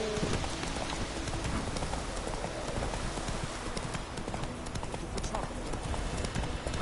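Roach, a horse in the video game Witcher 3, trots steadily with continuous clip-clopping hooves throughout, fairly close, with faint ambient noise behind.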